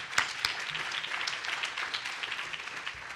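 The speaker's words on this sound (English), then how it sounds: "So a round of applause for them as well" Dense, steady applause from a crowd at a welcome luncheon, a continuous wash of clapping at moderate distance with a couple of sharper claps near the start.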